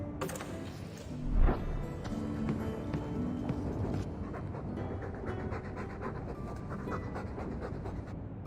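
A dog pants in the fantasy video game Dragon Age 2, a steady, fairly faint run of quick breaths that goes on without a break and is briefly interrupted by a louder thud.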